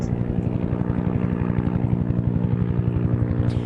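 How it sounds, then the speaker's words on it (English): Firefighting helicopters making water drops over a canyon wildfire near Grizzly Flat Road produce a steady, loud, rhythmic rotor thump with a droning engine, continuous and close, with no voices. "Multiple choppers were doing water drops at the same time."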